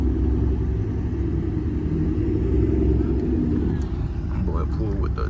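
A truck hauling a trailer pulls away with a deep, loud engine rumble that holds steady before easing slightly, while people talk over it near the end.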